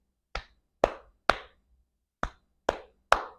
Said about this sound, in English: just by clapping